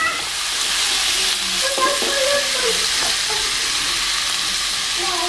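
Vegetables fry and sizzle steadily in a pan in a home kitchen, a continuous loud crackling hiss with a few clinks and scrapes of stirring, no voices.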